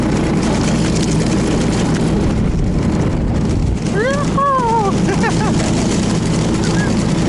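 Motor-dog engine, a small motorized snowmobile tow at a winter send-off race in a village, running with a steady low drone while voices call out over it.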